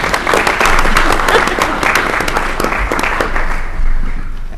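An audience at a university Board of Governors meeting applauds with steady, dense clapping that fills the room and holds at an even level before slowly tapering.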